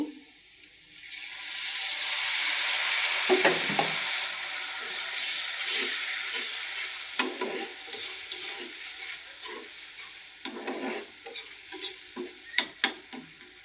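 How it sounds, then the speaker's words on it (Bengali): Chili and turmeric powder fry with a little added water in a pan, a loud continuous sizzle that slowly settles, followed by irregular scraping and clacking strokes of stirring, heard close with no talk. "এখন মশলাগুলো কষতে থাক"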